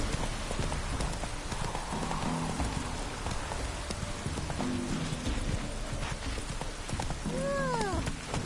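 Horse hooves in the video game Witcher 3 clop steadily and close, with light rain pattering over them and a brief whinny near the end.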